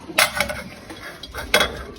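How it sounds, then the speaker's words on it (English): Food for chicken alfredo is stirred in a pot on the stove, with two sharp metallic scrapes and clinks of a utensil against the pot over a quiet background. "Now you're gonna want to stir that up a little bit"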